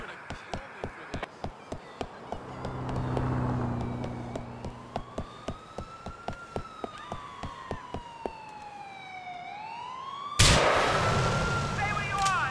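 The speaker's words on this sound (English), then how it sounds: "Explosion on Frankfort Avenue." Gunfire and explosions in the video game GTA IV, with steady rhythmic shots popping throughout, a wailing police siren sweeping up and down, and a loud blast near the end.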